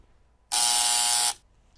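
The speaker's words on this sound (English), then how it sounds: "Team D has pressed the buzzer first." A single loud, steady electronic quiz-show buzzer sounds for just under a second, starting and stopping abruptly against near silence.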